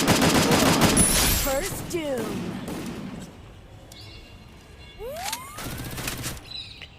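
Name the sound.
gunfire in the video game Free Fire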